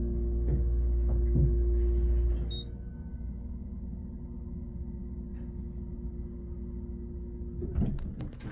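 A modded Burlington hydraulic elevator motor at 380 N Broadway in Hicksville runs with a loud low steady hum, then drops to a quieter droning throb with faint clicks and a thump near the end.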